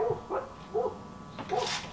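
Dogs barking outside: several short, fairly faint barks and yips in an irregular series, heard at some distance.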